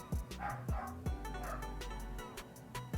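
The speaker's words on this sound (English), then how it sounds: "which is why you're hearing the many dogs of the kennel" Many dogs in a kennel bark and yip faintly in the background, with short sharp barks recurring at an uneven rhythm over a low rumble.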